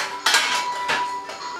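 A spoon clinks and scrapes against a pot while cabbage and corned beef are stirred, three quick metallic strikes with a faint ringing tone between them, close and clear.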